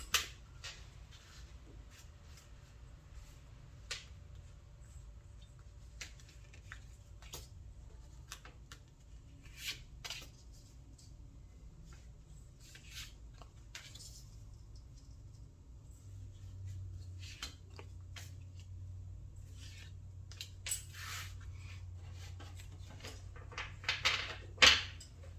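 Tarot cards are drawn one after another, five in all, giving faint, scattered soft card slides and light snaps close by in a quiet room.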